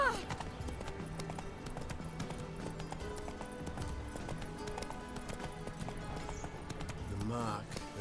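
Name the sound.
horse Roach galloping in The Witcher 3 video game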